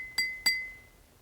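A spoon taps a glass half full of water twice in quick succession, two bright ringing clinks that sustain and fade into quiet.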